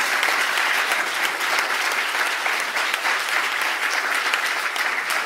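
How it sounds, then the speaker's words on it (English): An arbitration conference audience in Cambridge gives its panel speakers a steady round of applause, a dense and loud wash of many hands clapping without pause throughout. "I think we should give our speakers a wonderful round of applause"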